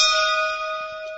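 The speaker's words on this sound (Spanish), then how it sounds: "es una fecha no muy clara para que esta campana pueda volver a sonar" A school bell in Puerto Aysén rings with a single clear, sustained metallic tone and strong overtones, loud and close, slowly fading with no voices.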